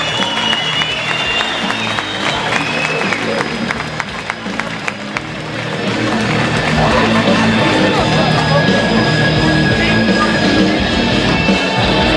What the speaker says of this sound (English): Keep your applause going for Peter Duncan, ladies and gentlemen.